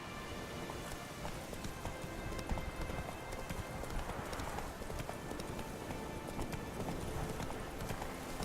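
Hooves of the horse in The Witcher 3: Wild Hunt clatter in a rapid galloping rhythm, steady and moderately loud, under a constant rain-like wash of background noise.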